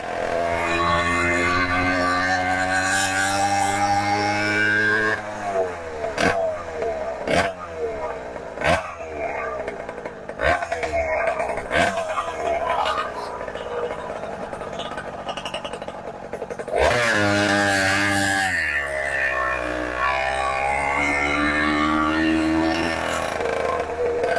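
A Minarelli moped engine idles and revs as it sets off for a short ride, a buzzing two-stroke drone broken by sharp pops and a later surge in revs, with people talking over it.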